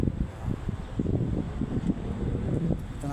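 Wind buffeting a microphone outdoors beside the Philippine Arena building, a steady low rumbling roar with irregular gusty thumps throughout, fairly loud and continuous with no voice over it.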